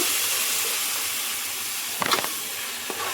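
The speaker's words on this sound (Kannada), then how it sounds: "ಈಗ ಟೊಮಾಟೊ ಪ್ಯೂರಿ ಹಾಕ್ಕೊಳ್ತಿದ್ದೀನಿ" Tomato puree hits a hot pan for a dhaba-style egg masala, raising a steady, loud sizzling hiss throughout, with a brief clatter of stirring near the end.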